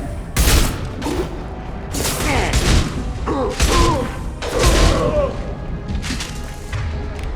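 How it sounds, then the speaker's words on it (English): Heavy gunfire pinning down a squadmate in Mass Effect 2, with loud bursts and booming impacts coming in repeated waves, mixed with mechanical clatter and ricochets. "Garm's got me pinned down. Taking heavy fire!"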